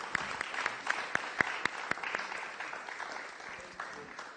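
An audience at a public lecture celebrating SEND West Africa's 25th anniversary gives a round of applause, a steady, even wash of many hands with a few crisp, louder claps near the front, continuing for over four seconds.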